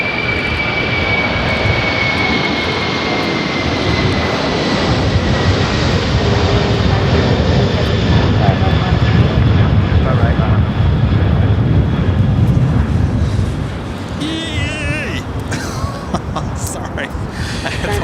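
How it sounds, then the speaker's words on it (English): A Boeing 747-400 freighter takes off at Los Angeles airport, its loud jet engine roar sustained and building for about thirteen seconds before easing and fading, with voices chatting and laughing faintly over it. "That was Atlas Air, flight 563, taking off to Zaragoza, Spain, on the 747-400 freighter."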